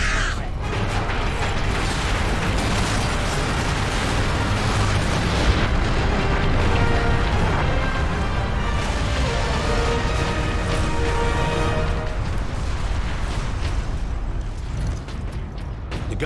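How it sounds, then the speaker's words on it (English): A fortress detonating in the Space Marine video game: a sustained, dense wall of rumbling explosions, grinding mechanical clatter and creaking debris, loud and continuous, easing off slightly near the end. "Better off seeing this fortress detonated than outside."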